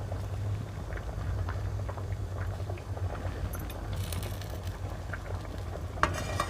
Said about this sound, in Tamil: இதை பாருங்க நல்லா கொதிச்சிருச்சு, சுண்டி போயிருக்கு